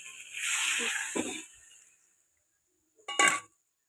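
Hot water is poured into an iron wok of cooking potatoes: a close splashing pour with a loud sizzle and gurgle that fades out over about two seconds, then silence, then a brief sharp metallic clatter.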